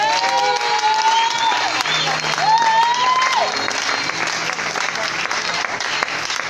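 A church congregation applauds and cheers in praise of God, with dense, steady clapping and a few rising shouts or whistles over a loud, continuous crowd roar.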